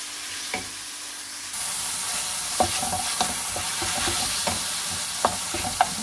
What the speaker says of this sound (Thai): ผัดหมูให้สุกก่อนนะจ๊ะ